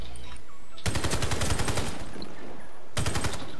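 Rapid automatic gunfire from a SCAR-L rifle in the Warface shooter on the Bridges map, a loud dense burst of about a second followed by a shorter second burst after a pause.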